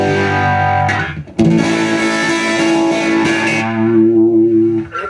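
An electric guitar rings out clean through an MXR Phase 90 phaser pedal, sustained chords swirling and sweeping, loud and close, with a brief break between strums.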